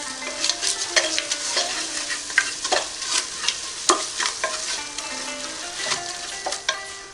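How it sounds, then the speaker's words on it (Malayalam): Bay leaves, cinnamon and cardamom fry in hot oil for an Arabian madhghooth, giving a steady close sizzle broken by repeated crackles and scrapes of stirring. "ഇനി ഇതിലേക്ക് എടുത്ത് വെച്ചിരിക്കുന്ന ബേ ലീവ്സ്, കറുകപ്പട്ട, ഏലക്ക ചേർത്ത് കൊടുക്കാം."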